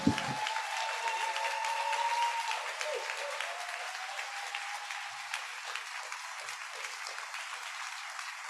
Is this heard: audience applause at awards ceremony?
yes